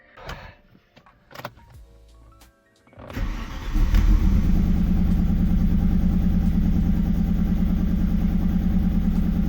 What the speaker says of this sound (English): I still didn't add coolant, but I have to crank up the engine